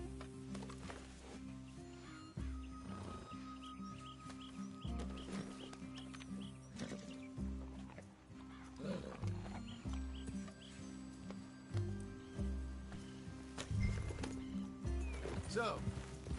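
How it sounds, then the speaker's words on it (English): Horse hooves clop in a steady rhythm with occasional neighs, under game music and people talking throughout, in the video game Red Dead Redemption 2. "Get back on the horse."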